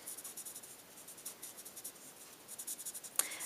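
A Spectrum Noir alcohol marker with a small nib scratches softly across paper in quick, rhythmic strokes, faint and close, ending with one sharper tap.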